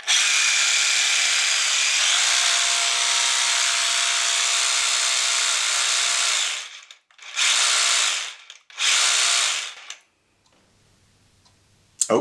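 A Festool PSB 420 jigsaw buzzes loudly and steadily, then cuts out and revs up twice in short bursts before stopping, leaving quiet room noise.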